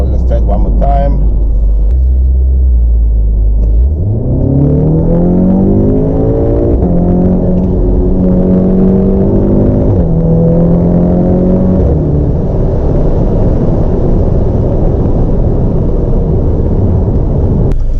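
A modified Audi S3 sleeper accelerating hard, with a loud engine rising through several gears with clear pitch sweeps, turbo whooshes and a rumbling exhaust, very close and dominant throughout.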